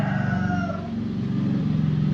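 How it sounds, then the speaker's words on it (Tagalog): A rooster crows near a house, a faint drawn-out call over a steady low hum of passing traffic and motorbikes outside. "ang ingay dito, manok at saka yung mga sasakyan, mga motor"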